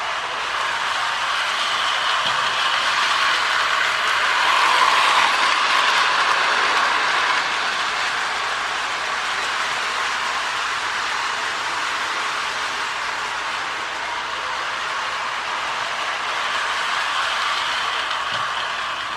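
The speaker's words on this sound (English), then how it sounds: "it's always fun to get these locomotives running as they should and get them all cleaned up" A Lionel 2037 model train locomotive runs steadily on its track, a continuous whirring rumble with a steady mechanical hiss that holds close and even throughout, with no talking.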